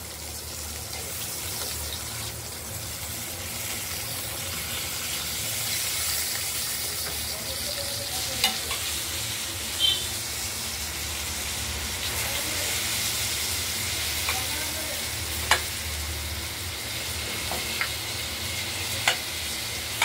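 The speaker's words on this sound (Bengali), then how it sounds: "ভাজা হোক আলুগুলো" Steady sizzling of potatoes frying in a pan, with occasional clicks and taps of a utensil over the continuous hiss.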